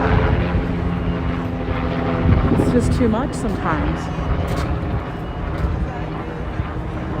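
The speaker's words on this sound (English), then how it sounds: "I wonder if that's a tourist helicopter." A tourist helicopter flies over New York near South Ferry, its steady engine and rotor drone heard throughout over a continuous outdoor roar, while a person speaks briefly close by.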